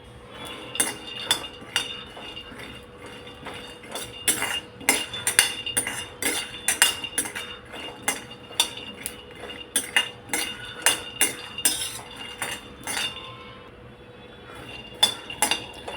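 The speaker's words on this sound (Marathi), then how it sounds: "1 वाटी शेंगदाणे घेतलेत, ते आपण हलके भाजून घेऊया" Peanuts being dry-roasted in a pan for peanut ladoo, stirred with a spoon that clinks and scrapes against the metal in irregular bursts, close and moderately loud, with no talk.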